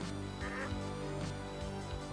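A cartoonish duck quack in a video game sounds a few times, faint and under a steady bed of game music and noise.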